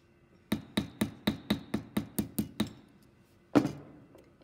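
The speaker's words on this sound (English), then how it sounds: "hammer around like the outside of the rivet, just to kind of knock those little edges down" About ten quick, evenly spaced metallic taps from a small hammer knocking down the edges of a metal rivet, then a pause and one harder ringing strike, close and clear.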